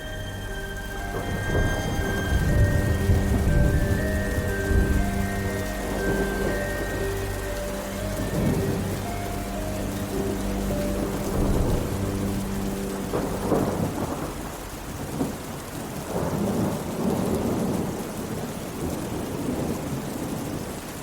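Winter thunderstorm with steady heavy rain pattering on surfaces and deep rolling thunder that swells and rumbles repeatedly, loud and continuous throughout, with no voices.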